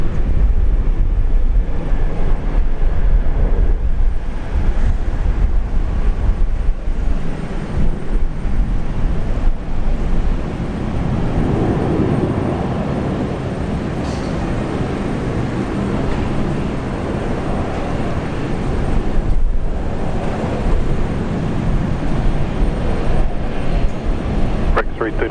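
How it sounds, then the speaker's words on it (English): A Regional Express Boeing 737-800 airliner takes off at Brisbane, a loud, steady engine roar that swells and holds throughout, with people talking over it. "domestic airline REX stands for Regional Express 7378,"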